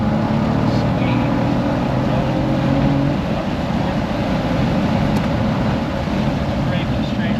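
A Cadillac CT4-V Blackwing engine drones loudly and steadily on the Thunderhill West racetrack, its pitch dropping as the driver brakes and downshifts, with a voice talking over it.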